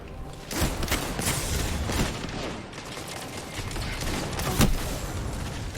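Hand cannon shots in a first-person shooter video game, several sharp gunshots spaced irregularly over a busy background of game effects, with one louder blast near the end.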